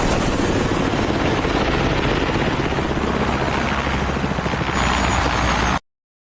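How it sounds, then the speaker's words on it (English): A helicopter from a Batman film drones steadily throughout at loud, even level, a thick rotor and engine roar that cuts off abruptly at the end. "that's the number that seems to appear on Bruce Wayne's helicopter"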